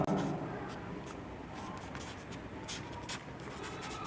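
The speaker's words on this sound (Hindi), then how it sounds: "तो यहाँ पे हमें लिखना है 3 वर्ष बाद आफ्ताब" A pen scratches steadily on paper as math working is written out for a class 10 linear equations lesson, a soft continuous scribbling close to the mic with faint strokes throughout.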